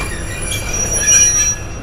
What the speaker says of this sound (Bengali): ব্রাহ্মণবাড়িয়া রেলওয়ে স্টেশনে এসে দাঁড়ালো।